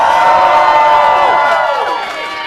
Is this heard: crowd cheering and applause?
yes